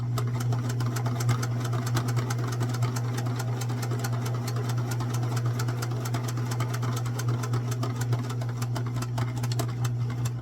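A sewing machine stitches a cross-stitch pillow with a fast, steady mechanical whir and rapid needle ticking, close and continuous for about ten seconds, with no talking.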